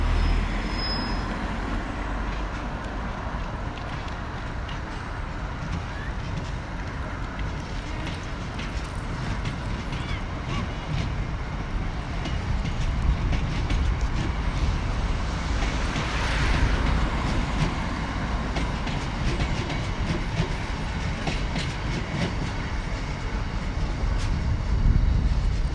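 A train rolls past a station in Norwich, a steady broad rumble with rail noise holding at constant loudness throughout, close by and continuous with no talk over it.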